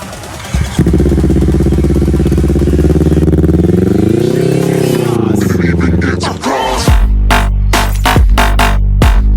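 A 2015 Kawasaki Z250 motorcycle engine runs loud and close, revving up and back down, then settles into an idle broken by short, sharp throttle blips.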